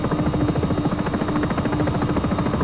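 A Sikorsky S-76 helicopter in X-Plane 11 gives a loud, steady rhythmic rotor chop layered over a buzzing engine drone, with no voices.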